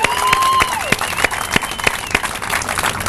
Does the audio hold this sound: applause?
yes